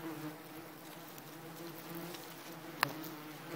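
Wasps around a disturbed garden nest, a faint continuous buzzing drone with one sharp knock partway through, no voices.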